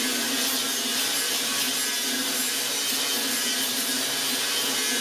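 Steady, loud abrasive grinding on metal welds of a custom-fabricated roll pan, a continuous rasping whir running unbroken throughout with no talking.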